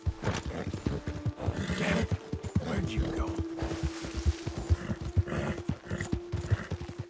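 Hooves of a horse ridden at a gallop in the video game Red Dead Redemption 2, a fast, close, rhythmic clip-clop running throughout, with a whinny and a steady game tone beneath.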